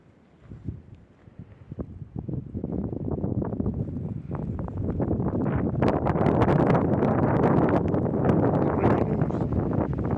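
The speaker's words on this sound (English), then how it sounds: "You hear the wind?" High winds in a Staten Island snow blizzard, gusting wind that buffets the microphone and builds from faint to loud, roaring continuously for the latter half.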